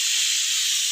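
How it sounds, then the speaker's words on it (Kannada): Drumstick leaves fry in a pan with a loud, steady sizzling hiss that holds without pause for the whole moment, close up and alone. "ಚೆನ್ನಾಗಿ ಫ್ರೈ ಮಾಡ್ಕೋಬೇಕು"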